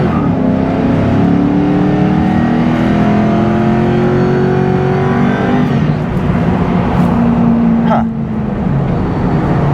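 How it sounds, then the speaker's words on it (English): A Ford Mustang Mach 1 engine revs loudly and climbs in pitch as it accelerates, heard from inside, with a brief knock near the end. "It like revved up, but the car, it was accelerating"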